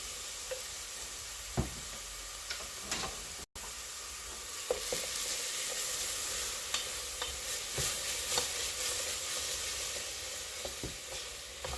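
Garlic sizzles steadily in a hot frying pan for a homemade spaghetti sauce, a loud continuous hiss with stirring clicks and a brief cutout partway through.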